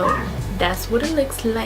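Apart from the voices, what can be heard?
dog barking in the background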